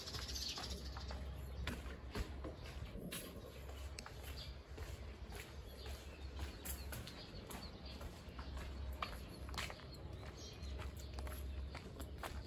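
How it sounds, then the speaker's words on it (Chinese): Sparrows chirp in a quiet rural village in Baisha Town, Taishan, with short scattered calls over a steady low rumble and light outdoor bustle, moderately distant and without speech. "啲麻雀。"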